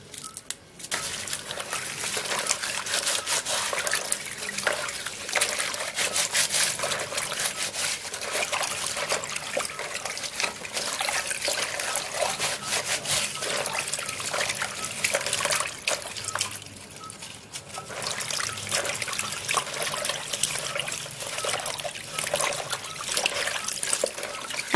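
Guava leaves being washed in water for tea, a steady continuous splashing and trickling of water close by throughout, with no talking.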